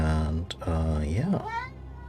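A pet cat gives a couple of drawn-out, rising and falling meows up close, the second bending upward in pitch, heard alone with no talking.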